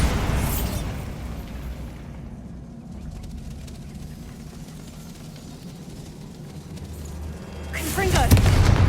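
Bombarda explosion spell in the video game Hogwarts Legacy, a heavy rumbling blast that rolls on for several seconds, then a second sharp burst near the end.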